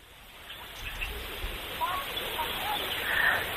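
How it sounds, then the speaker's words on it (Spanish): Ambient jungle sounds beside a lake in Maya country, a dense steady wash of broadband hiss with faint scattered bird chirps, no talking. "Ese es el sonido de la medioselva que hay aquí"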